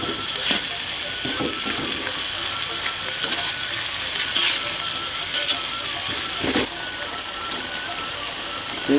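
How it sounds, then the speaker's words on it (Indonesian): Chicken for Balinese lawar ayam cooks in a pan, frying and sizzling steadily close up with scattered stirring knocks, continuing until the liquid dries. "Kita masak lagi hingga airnya surut atau airnya sudah mengering."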